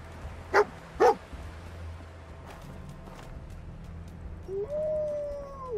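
Dogmeat, the dog companion in the Fallout video game, gives two quick sharp barks close up, followed by a quiet stretch and then a drawn-out whine toward the end, with no one talking.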